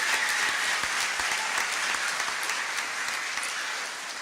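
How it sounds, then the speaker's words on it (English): Audience at the Bateman School 2018 graduation ceremony applauding the graduates, a steady, dense wash of many hands clapping that holds for several seconds and tapers slightly at the end. "Let's give all of our graduates one more big round of applause"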